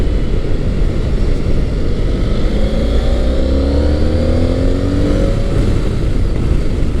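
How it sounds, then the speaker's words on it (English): A Honda ST1300 V4 sport-touring motorcycle accelerates hard out of corners, its engine note rising in pitch over loud, steady wind roar close to the rider. "There's that awesome V4 punch out of the corners."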